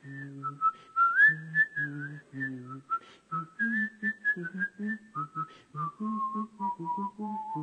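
A single person whistling a melodic line from the canon Three Blind Mice while humming the other voice beneath it, clear close notes in a steady rhythmic phrase with gaps between short groups.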